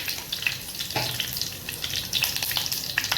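Mustard seeds and cumin crackling in hot oil in a kadhai, a bright continuous sizzle with scattered small pops, close and fairly loud, no voices.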